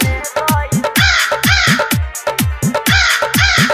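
Crows caw again and again in a steady, rhythmic run of about eight loud, harsh calls, set inside a Bhojpuri Saraswati Puja devotional song.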